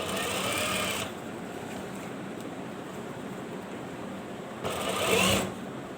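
A sewing machine runs continuously while stitching close along an arm cuff, with a steady close whir and a slightly louder burst near the end.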